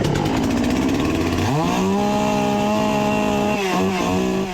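Gas-powered chainsaw running loud and close, its engine revving up then settling into a steady high-pitched whine that dips briefly before holding.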